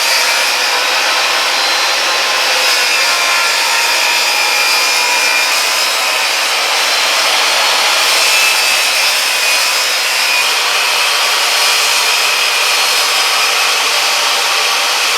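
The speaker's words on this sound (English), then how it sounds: "That's a heck of a way to rip red oak with a circular saw" A circular saw ripping red oak boards for a truck bed floor, heard as a loud, close, unbroken high whine and cutting roar that holds steady for the whole stretch with no talking.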